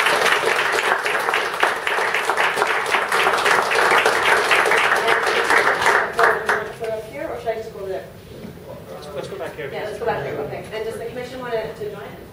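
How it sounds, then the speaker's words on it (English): An audience at a Toronto city meeting gives a round of applause, dense clapping that runs loud for about six seconds, then fades to scattered claps as voices begin talking. "if I could ask everyone to join me in a round of applause for our customers"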